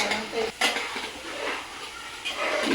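Crab and prawn curry stirred in a pan with a metal utensil, scraping and clinking against the pot in close, repeated strokes over a faint sizzle, with a brief pause midway.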